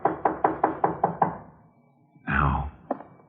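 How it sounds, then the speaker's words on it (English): Seven firm knocks on a door land in a quick, even rhythm, close and loud, followed by a pause, a breathy rush and one last thump, with no talk over them. "Let him knock again."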